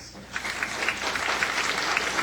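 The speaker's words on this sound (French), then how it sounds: "une belle main d'applaudissement pour" Applause from a seated audience at a Halifax session, honoring a gifted musician, rising after a quiet start into a steady patter of many hands, moderately loud and somewhat distant.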